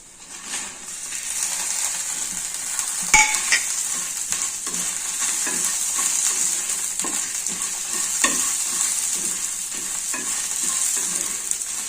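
Short red chillies fry loudly in hot oil with a bright, continuous sizzle, while a spatula stirs and scrapes the pan with occasional metallic clinks.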